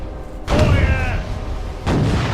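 Cannon firing aboard a ship in the VR game Furious Seas: a loud booming blast rolls out with a rumbling tail, then a second heavy boom hits near the end.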